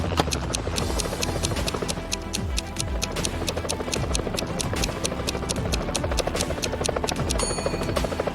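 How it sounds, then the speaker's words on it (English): A rescue helicopter flies over a tropical island, its rotor thudding in a rapid, steady chop that stays close and even throughout. "Soon after, the helicopter spotted them and rescued them."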